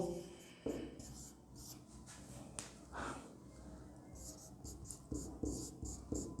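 Someone writes on a board during a respiratory system lesson, scattered scratchy strokes and taps at moderate distance with quiet room noise and faint murmurs between.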